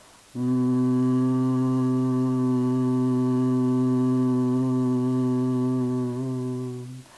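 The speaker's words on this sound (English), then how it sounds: "exhaling with a hum." A person hums steadily on a long exhale during a guided breathwork exercise, one sustained, even, resonant tone lasting several seconds, close and loud, tapering slightly at the end.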